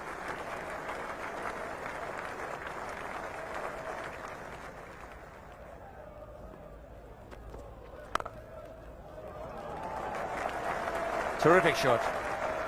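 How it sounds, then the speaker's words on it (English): Crowd applause at a Nottingham England versus India cricket Test, loud at first, easing off mid-way and swelling again toward the end, with a commentator speaking briefly over it. "And the applause is for the 300 coming up."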